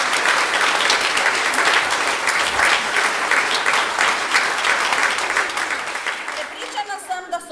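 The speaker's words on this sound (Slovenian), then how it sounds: "Zato jih še enkrat nagradimo z enim toplim in velikim aplavzom." Warm, sustained applause from an audience at a regional kindergarten choir gathering, a dense steady wash of clapping that fades slightly toward the end, where a voice begins speaking.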